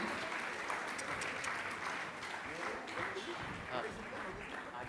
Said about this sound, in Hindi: आप लोग जोरदार ताली।